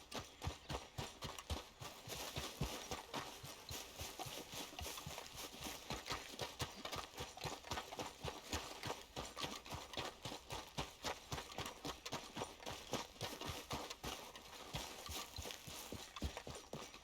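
A horse gallops in Red Dead Redemption 2 during falling rain, steady rapid hoofbeats thudding throughout at a fairly quiet level under a wash of ambient game noise.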